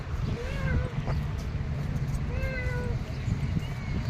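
A cat meows twice, a short call followed by a longer drawn-out one, outdoors over a steady low rumble of background noise.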